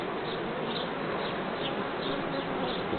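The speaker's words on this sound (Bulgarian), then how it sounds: "Прочутата родопска пчела." Rhodope honey bees buzz steadily at an open hive, making a dense, continuous hum at close range with no talk.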